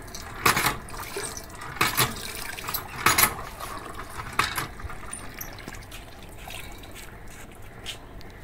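Tap water splashes and trickles while a drinking glass is rinsed at a home sink, with a few louder bursts of flow and clinks in a quiet room, no talking.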